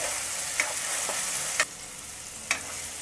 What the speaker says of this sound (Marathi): आता यात आपण जो अर्धा टोमॅटो बारीक चिरून घेतलाय तो घालूया. टोमॅटोला छान नरम करून घ्यायचं आहे आपल्याला.